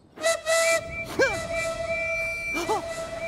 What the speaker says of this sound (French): Vite, signalons notre présence en sifflant.